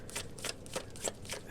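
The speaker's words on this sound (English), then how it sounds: "We'll close out the shuffle here." A deck of cards being riffled and shuffled close by, with a quick series of crisp flutters and snaps.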